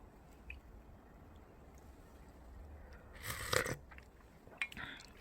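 Crunchy bites into young radish kimchi (yeolmu kimchi), a short burst of crisp crunching and chewing about midway, then a brief second crunch, over a faint steady background hiss.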